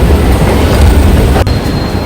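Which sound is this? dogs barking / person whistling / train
train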